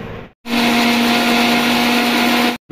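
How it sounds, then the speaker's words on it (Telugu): A loud mixer grinder whirs at a steady high pitch for about two seconds, starting and stopping abruptly between short pauses. "ఇప్పుడు మిక్సీ కొట్టింగా"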